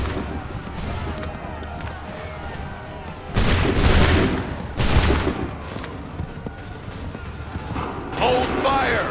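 Musket volley fire in Assassin's Creed 3, two loud crashing fusillades close together amid a battlefield din, with distant shouted orders and scattered crackling shots.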